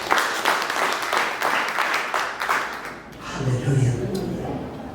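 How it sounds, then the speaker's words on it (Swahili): A church congregation claps in praise to God during a sermon, a dense rolling burst of applause that fades toward the end as crowd voices murmur. "Pigia huyu Mungu makofi."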